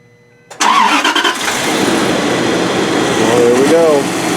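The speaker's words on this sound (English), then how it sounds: "And we're going to try to start the car." A 2003 Bentley Arnage T engine cranks and fires up after a quiet moment, then settles into a loud, steady idle close by, with voices faintly over it.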